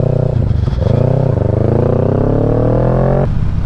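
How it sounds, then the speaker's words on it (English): A 2023 Kawasaki Ninja 650 motorcycle with a loud exhaust revs close and steady, its engine note rising in pitch as it accelerates, then cutting off sharply near the end. "Disturbing the peace with my loud ass exhaust."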